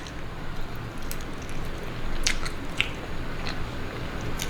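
Someone bites and chews scrambled eggs cooked with turmeric, giving soft wet squishes and a few sharper bites close to the mic over a low background hiss.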